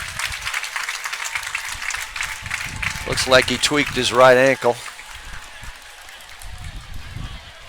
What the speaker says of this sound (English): Nice applause here by the Leavenworth crowd for a Lions player going out of bounds